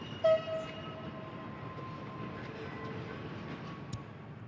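Trains in the Workers & Resources city-building game, a faint low rolling rumble with a brief horn note near the start and a soft click later.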